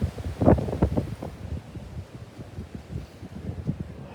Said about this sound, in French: Ouais, c'est tellement de vent là.